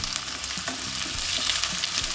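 Sliced onions sautéing with a bit of cinnamon for a yam masala, a loud, continuous sizzle with intermittent stirring scrapes of the spatula against the pan.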